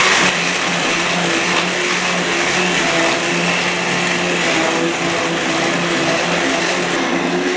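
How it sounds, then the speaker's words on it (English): A stick blender whirs continuously as it purées cooked peas into mushy peas in a pan, a loud steady motor drone with a constant pitch and no pauses. "Stick blender in, and let's give it a"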